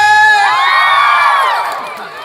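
A crowd cheers at a 2019 student sports festival with a loud, sustained swell of raised voices and whoops that slowly fades out.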